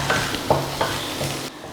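Masala idli with coriander leaves being stirred in a hot pan, a few distinct spatula scrapes over a soft sizzle, close and alone, cutting off near the end.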